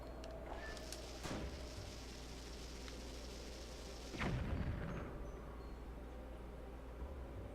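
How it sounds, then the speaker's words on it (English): An empty cannon fires twice in the Zelda Twilight Princess video game, two sharp booming blasts about three seconds apart, the second heavier with a lingering low rumble, set against quiet ambience with no talking. "I think I was firing an empty cannon."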